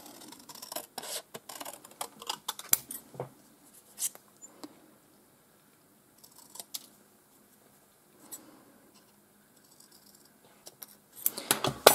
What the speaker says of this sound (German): und schneide es ein bisschen größer aus wie das weiße Fähnchen